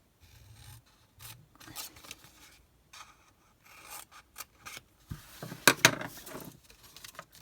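Scissors cut paper or card squares apart for a nail polish box base, giving soft, quiet, intermittent snips and rubbing scrapes close by, with a brief louder rustle near the end.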